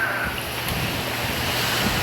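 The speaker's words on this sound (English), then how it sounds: "Wind's picking up, things are rattling and shaking and blowing over the place." Strong hurricane wind during Hurricane Ian, blowing loudly and constantly with a deep, roaring rush like a wind tunnel, heard alone.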